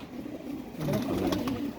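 A rabbit-eyed pigeon, a fancier's domestic breed, coos up close, quiet at first and then swelling into a fuller, rolling call over the second half with light rustling around it.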